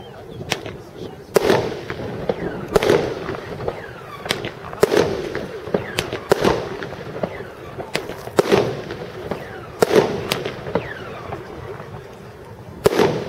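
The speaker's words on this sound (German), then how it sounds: "Als erstes JF07 Kombinationsfeuerwerk." A JF07 combination firework fires about a dozen sharp, loud bursts at irregular intervals, and each crack has a crackling tail. Faint crowd talk comes through between the shots.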